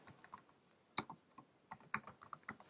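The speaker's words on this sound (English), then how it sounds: "Type in a name for the group" Typing on a computer keyboard while entering a group name, quiet and close, with bursts of quick irregular keystrokes separated by short pauses.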